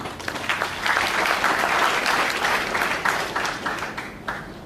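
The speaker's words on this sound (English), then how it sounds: "Why don't we give a big clap for him?" Audience applause after a call for a big clap during a talk on interest-free banking; steady, dense clapping from a crowd close by, sustained for several seconds.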